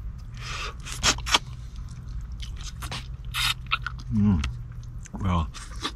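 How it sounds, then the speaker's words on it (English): Close, wet chewing and crunching of a hickory smoked fish head eaten by a river, with intermittent bites and squishes between a few quiet spoken words. "So I'm going to carry on eating my fish."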